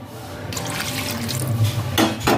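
Water pours into a bottle at home, a steady liquid fill with gurgling and trickling, loud and close, in two short pours.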